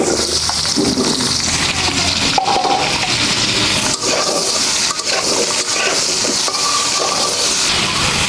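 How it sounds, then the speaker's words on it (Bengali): Potatoes and broccoli stems frying in oil for a Bengali rohu fish and broccoli dish, giving a loud, steady, dense sizzle that holds evenly throughout with a few faint clinks. "আলু আর ব্রোকলির ডাঁটাগুলো ভেজে নিচ্ছি।"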